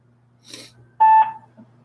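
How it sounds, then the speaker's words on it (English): A three-line auto dialer places phone calls, giving a short, clear DTMF dial tone after a soft rustle, followed by a faint click in an otherwise quiet line. "the dialer has made a little over 30 calls"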